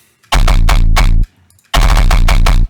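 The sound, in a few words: distorted low wavetable synth bass with burr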